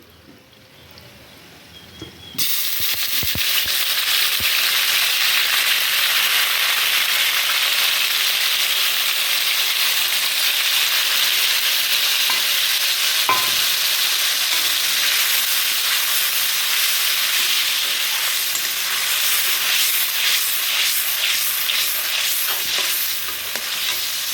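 Ground spice paste sizzling and frying in a wok, stirred continuously with a utensil; a loud, steady hiss with scraping stir strokes that begins abruptly after a brief quieter moment and runs uninterrupted, with no talking.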